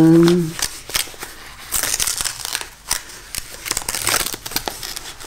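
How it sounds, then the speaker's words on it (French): A paper envelope is torn open by hand, with a series of crisp rips and crinkling rustles in short bursts close to the microphone, following a brief hummed voice at the start. "J'ouvre l'enveloppe."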